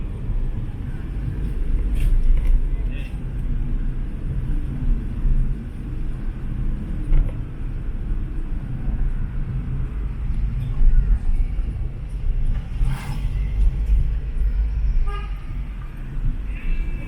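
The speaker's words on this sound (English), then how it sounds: "It's congested on the street." Congested street traffic on Barack Obama Drive in Dar es Salaam, Tanzania: a steady close engine rumble with repeated short horn toots scattered throughout, plus occasional voices in the background.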